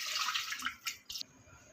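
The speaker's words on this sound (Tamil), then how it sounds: "கொஞ்சமாக தண்ணி ஊற்றிக்கலாம்." Water poured from a vessel into a pressure cooker holding mutton, heard as a brief, faint splashing pour with a few quick gurgles before stopping abruptly.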